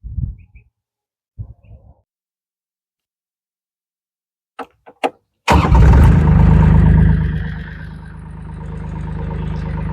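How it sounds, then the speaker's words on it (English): A JT5WL800 wheel loader engine cranks with a few short clicks and bursts, then catches with a sudden loud roar that settles into a heavy, steady idle nearby. "Now let's start the machine"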